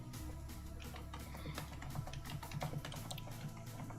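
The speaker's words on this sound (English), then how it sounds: "you're probably going to hear me typing" Steady clicking on a computer keyboard during an Xbox games showcase reaction, quick irregular keystrokes close by but quiet, with no one talking.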